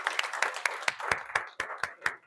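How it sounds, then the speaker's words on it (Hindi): Sharp, distinct claps at a rough steady rhythm, a few hands together rather than a full crowd, from children at a training session on cow-based products. "बच्चे लोग जोरदार तालियां बजाओ"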